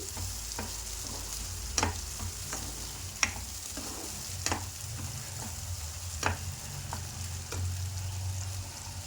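Spice masala for a lotus seed curry fries steadily in oil, a continuous soft sizzle punctuated by intermittent spoon scrapes and taps against the pan, close and moderately quiet.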